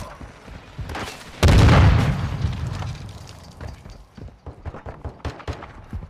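A loud C4 explosion in Warzone 2.0 bursts with a heavy low boom, then rumbles and fades over a few seconds, followed by lighter in-game clatter and footsteps.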